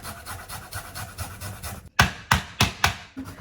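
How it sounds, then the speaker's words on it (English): A garlic clove is grated on a microplane with soft rhythmic rasping strokes, followed by four sharper, louder scraping strokes close by. "So I'm grating another one because I needed 2 garlic cloves."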